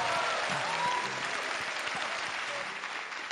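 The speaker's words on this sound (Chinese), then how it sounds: "来，大家给主持人热烈的掌声。" A studio audience on a Chinese job-hunting TV show bursts into sustained applause for the host, a steady dense clapping that fills the whole stretch with no talk over it.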